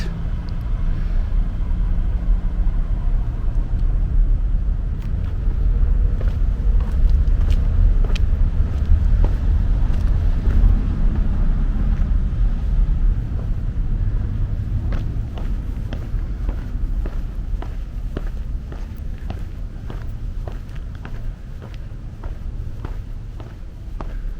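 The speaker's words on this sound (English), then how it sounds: "But it's very loud because of that road right there." Continuous low rumble of road traffic passing nearby on a street in San Miguel de Allende, steady and loud throughout with occasional faint clicks on top.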